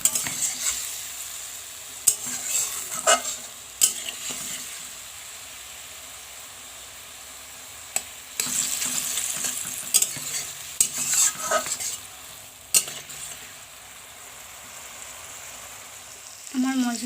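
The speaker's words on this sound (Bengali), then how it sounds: "দিয়ে ভালোভাবে এটাকে কষিয়ে নেব মশলাটি যতক্ষণ তেল ছাড়বে না কষিয়ে যেতে হবে।" Spiced masala with raw cumin powder being stir-fried in oil for a banana-flower curry, with a spatula scraping and stirring in intermittent strokes over a steady close sizzle.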